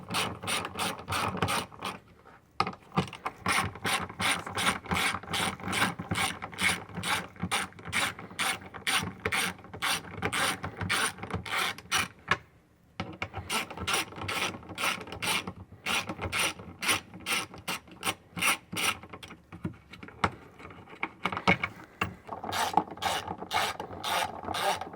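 A hand ratchet with a 10mm socket backs out a bolt in the dash area of an Xpedition during a turn signal kit install: rapid, close, steady clicking that runs almost continuously, broken by two brief pauses.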